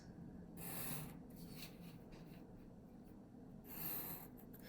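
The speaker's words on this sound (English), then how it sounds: "you're going to set your straight edge and you're going to draw all of your lines" Graphite pencil strokes rasp along a straight edge while drawing ruled lines around a circle for a mum template, quiet close scratching in a couple of longer bursts with softer rubbing between.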